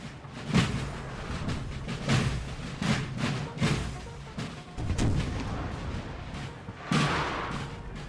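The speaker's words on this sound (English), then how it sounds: "Just a lot of artillery right now." Artillery booms repeatedly across a Napoleon: Total War battle on the Iberian Peninsula, heavy thuds arriving every second or so over a constant rumbling din of distant gunfire, with no voices.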